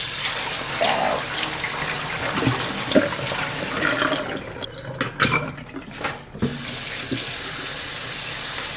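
Tap water runs steadily and loudly into a kitchen sink to soak greens with vinegar, with brief clinks and splashes of handling partway through and no talk.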